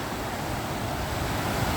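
Fast-flowing river swollen after days of rain in Alness, a steady broadband rush of water with gusty wind on the microphone, continuous and fairly close, with no voices.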